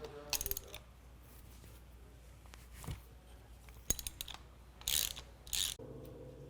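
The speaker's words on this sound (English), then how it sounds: "So I'm going to take my 17 millimeter socket and my 15 millimeter open end wrench and loosen this." A 17 mm socket and 15 mm open-end wrench loosen the base bolt on a motorcycle fork, giving scattered ratcheting clicks and metallic clinks in a quiet workshop, with louder bursts of rapid clicking toward the end.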